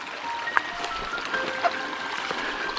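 San Antonio Creek on the Arnold Rim Trail flowing steadily: a soft, continuous broadband wash of moving water with small gurgles and trickles, close by and alone with no talk.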